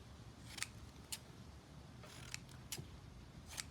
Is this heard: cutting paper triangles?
yes